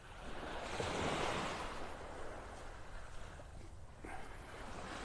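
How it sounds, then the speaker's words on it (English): Gulf of Mexico waves break and wash on the beach at Delnor-Wiggins in North Naples, Florida, a steady surf rush that swells early and then settles, with wind buffeting the microphone. "The music of the waves, the song of the sea."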